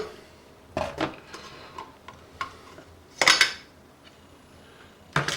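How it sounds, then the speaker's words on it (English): A metal paint can being pried open with a tool during backdrop painting for a model railroad layout: a few sharp metallic clinks and scrapes, with a louder clatter near the middle and another at the end, close and alone. "let's go ahead and get this can of paint open"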